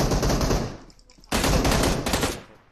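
Rapid automatic gunfire in the mobile battle-royale game PUBG Mobile comes as two loud, dense bursts separated by a brief gap, close and sustained.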